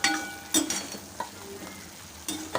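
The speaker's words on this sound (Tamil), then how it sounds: "வெந்தயப்பொடியும் சேர்த்துட்டு கலந்துக்கலாம்" A spoon stirs fenugreek powder into a rice and coconut batter, giving a few brief scraping and clinking strokes close by with quiet gaps between them.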